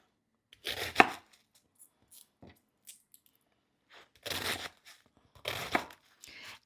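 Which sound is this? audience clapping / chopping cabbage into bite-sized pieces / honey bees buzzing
chopping cabbage into bite-sized pieces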